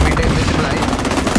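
Rapid automatic gunfire in the shooter video game XDefiant, a dense, loud burst of back-to-back shots filling the short moment without a break.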